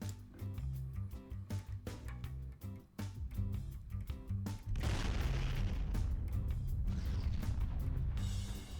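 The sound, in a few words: bomb explosions in Garry's Mod shockwave tests, from a video game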